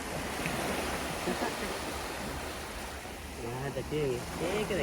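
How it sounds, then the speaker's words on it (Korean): Waves wash steadily onto a long island beach with a constant, broad surf rush and some wind, while people chat nearby. "바닷가."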